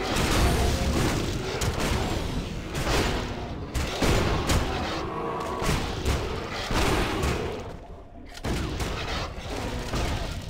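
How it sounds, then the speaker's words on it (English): Heavy shotgun fire in the action RPG Torchlight II comes as a dense, continuous barrage of loud booming blasts and thuds with only brief gaps, close and dominant throughout. "Shotgun."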